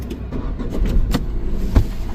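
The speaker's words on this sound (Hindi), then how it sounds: "तो चलिए अब स्टार्ट करते हैं गाड़ी को।" Tata Nexon petrol engine cranking and catching, heard from inside the car as a low rumbling idle with a couple of thumps and a sharp knock near the end.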